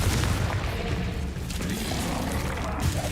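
Confringo explosive spells are cast in the Hogwarts Legacy video game, giving a dense, continuous roar of booming blasts and crackling impacts with no break for the whole stretch.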